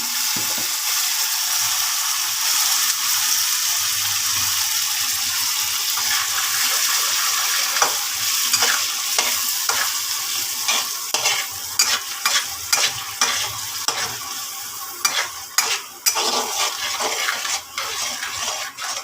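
Tomato paste fries in hot oil with garam masala and bay leaf, a loud steady sizzle that gives way to a spatula scraping and stirring in quick uneven strokes, no voices.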